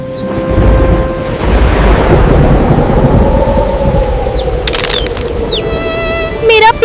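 Loud, rolling thunder rumbles from dark clouds over steady heavy rain, with a few brief whistling tones near the end.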